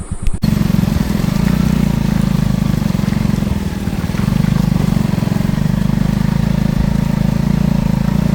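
A motorbike engine drones steadily and loudly at close range while riding along a muddy road near Phulpada dam in Virar, with a low continuous rumble and slight throttle changes.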